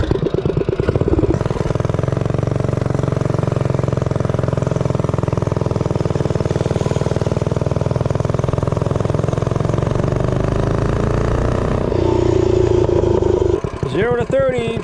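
Doodlebug minibike engine fitted with a 66-tooth rear sprocket for a 5.5 ratio, running steadily and loud up close for most of the run, then dropping off near the end.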